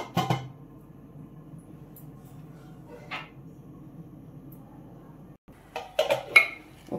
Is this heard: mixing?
yes